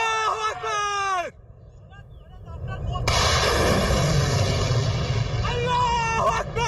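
Pakistan's Fatah-1 missile system launching, a loud sustained roaring rush that builds and holds, heard through a crowd chanting and shouting close by.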